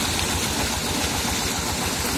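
A diesel engine drives a water pump for irrigating a corn field, its steady, loud, rumbling chug running continuously with dense low vibration and no talking.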